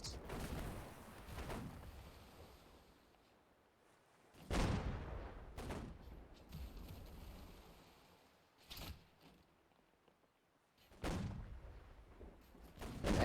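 Ship cannons boom in a naval battle video game, with several sharp, heavy blasts spaced a few seconds apart over a rumbling background, each decaying into a low echo.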